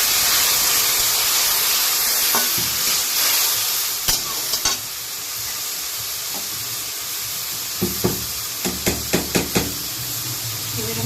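Water poured into spices frying in a pan with red chilli powder and turmeric for a dal with pumpkin stems, a steady sizzle with scattered clinks and stirring knocks, louder bursts toward the end.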